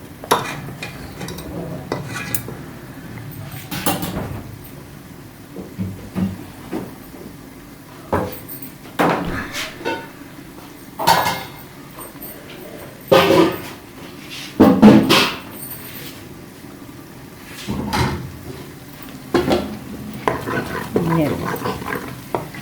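Homemade desi ghee being stirred and sizzling in a pan, with repeated scraping and clattering of a spoon against the pan in irregular bursts over a soft background sizzle.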